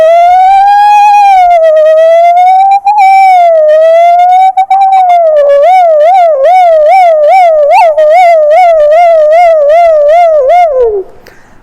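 A performer's voice imitates an approaching ambulance siren at a cultural festival, first a smooth rising-and-falling wail, then a rapid warbling yelp, loud and unbroken for about eleven seconds before it suddenly cuts off.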